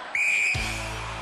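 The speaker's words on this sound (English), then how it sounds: "Gary, you will go on my first whistle" A referee blows a single sharp whistle to start a head-start race on the 1993 UK Gladiators television show, one piercing blast that cuts off into a swelling crowd roar.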